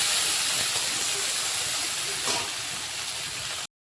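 A ground paste of poppy seeds, cumin and dried red chili hits hot oil in a pan, giving a loud, steady close hiss of sizzling that cuts off abruptly at the end.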